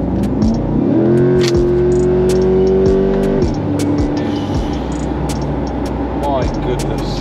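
Corvette C8 Stingray V8 running on a road trip from London to Luxembourg, with a loud, steady engine drone and a rising rev partway through, all close and continuous.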